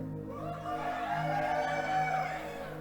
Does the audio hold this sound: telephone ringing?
no